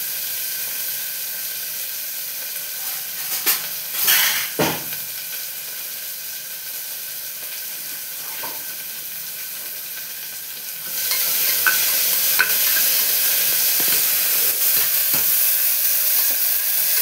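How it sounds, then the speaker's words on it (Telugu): Onions frying in a pan after cumin seeds for a ridge gourd and moong dal curry: a steady hiss and sizzle throughout, briefly broken by stirring clatters, then growing louder and denser in the second half. "ఎర్రగడ్డ బాగా వేగిన తర్వాత"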